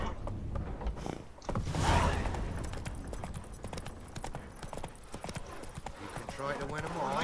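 Roach, the horse in The Witcher 3, clops along with steady rhythmic hooves close by, while voices talk over the top of the hoofbeats.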